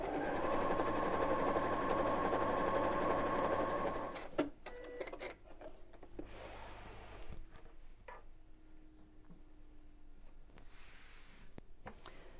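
Sewing machine stitching oven gloves, a steady close whirring run that stops after about four seconds, followed by faint handling clicks and rustles.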